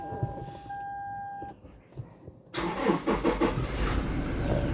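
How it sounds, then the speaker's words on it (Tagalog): A car engine cranks and catches, then settles into a steady running rumble, preceded by a faint electronic beep from a QCY F24 dashcam. "Ayan, on natin yung sasakyan."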